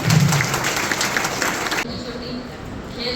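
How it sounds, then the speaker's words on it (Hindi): An audience claps to welcome a speaker at a gathering, a short burst of applause that cuts off into quieter room tone with a voice beginning to speak. "दीदी का तालियों के साथ स्वागत किया जाए।"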